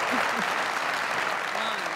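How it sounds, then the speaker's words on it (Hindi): Dense audience applause fills a comedy show stage, a steady burst of clapping from a full crowd lasting a couple of seconds with a voice briefly over it. "इनके लिए तालियां।"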